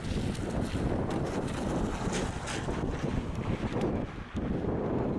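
Cold wind gusts outdoors in Northumberland and buffets the microphone with a constant loud roar that shifts only slightly in strength.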